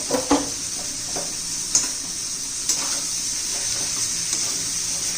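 Coconut and peanut mixture stirred in a hot pan while making a village-style pavta bean and potato curry: a soft continuous sizzle with scraping stirs and a few clinks of a spoon against the pan, no talking.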